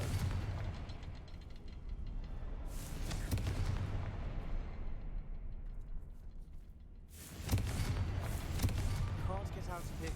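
Two heavy Confringo spell explosions in the video game Hogwarts Legacy burst loudly a few seconds apart, each a sharp blast trailing into a rumbling decay over a low background.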